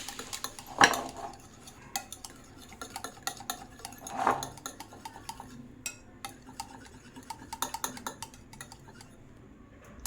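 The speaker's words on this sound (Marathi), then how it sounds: "आता दही मी बाउलमध्ये टाकते आपल्याला चांगला असा फेटाळून घ्यायचा आहे" Yogurt (curd) is whisked in a bowl, with steady soft stirring and light clinks of utensil against the bowl, plus a few louder knocks. No talk.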